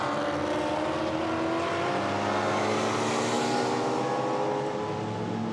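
GT4 race cars, a Maserati and BMWs, run on the Misano circuit, a sustained engine roar that swells and shifts pitch as they pass, at a moderate distance with no commentary over it.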